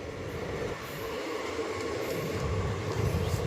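A passenger train rolls past in a steady, loud rumble with broadband rail noise throughout, no voices, filling the whole stretch without pause.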